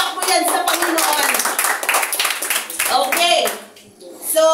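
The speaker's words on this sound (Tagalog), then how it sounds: "Sige, palakpak mo yan sa Panginoon." A church congregation claps together in steady, sustained applause during a service in San Mateo, Rizal, with voices talking over it before the clapping fades and picks up briefly again.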